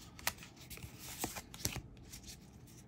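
Magic: The Gathering cards handled during a Dominaria Remastered draft box opening, with soft, close shuffling, flicking and riffling of card stock in irregular bursts and no talking.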